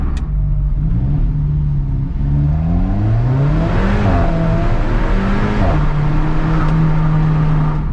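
An Alfa Romeo 4C sports car engine rumbles loudly and revs up and down, the pitch rising and falling, heard close from inside the car.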